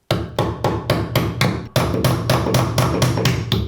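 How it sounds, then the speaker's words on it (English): A hammer strikes repeatedly at a nail stuck in a wooden joist during a pocket door wall build, sending out about a dozen sharp, loud, evenly spaced blows close by, with a short pause midway. "The old side hammer."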